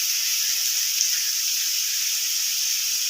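Vegetables for chowmein fry in a pan, a loud steady high hiss of sizzling that holds evenly throughout with no pauses.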